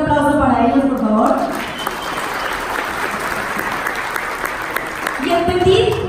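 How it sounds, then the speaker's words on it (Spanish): An audience breaks into applause at a talk, a broad steady roar of clapping that rises as a speaker's voice fades and then dies away as the speaker resumes talking. "Un aplauso para ellos, por favor"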